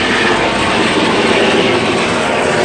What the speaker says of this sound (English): Yeah, that's definitely a helicopter.